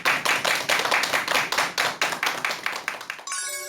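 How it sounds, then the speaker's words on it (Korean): Studio audience at a lecture broadcast clapping together in a fast, rhythmic unison pattern, loud and close, ending abruptly as a short musical chime begins. "여러분 큰 박수 부탁드립니다."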